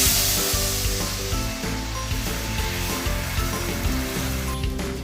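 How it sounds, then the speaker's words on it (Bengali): Keora water poured over mustard seeds in hot oil, giving a loud, continuous close sizzle that holds steady throughout with no voices. "এবারে কেওড়ার জলটা এই সরষার উপরে দিয়ে দিচ্ছি।"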